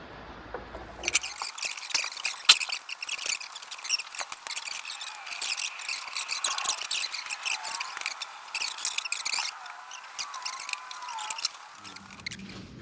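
Fresh engine oil drains from a 1972 Aston Martin V8 during engine removal, a steady thin trickle and drip that runs without a break from start to finish, with small clicks and taps over it.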